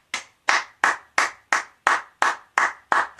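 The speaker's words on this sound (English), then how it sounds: "Clap." An audience claps in unison, ten sharp, evenly spaced claps about a third of a second apart, loud and close with no voices.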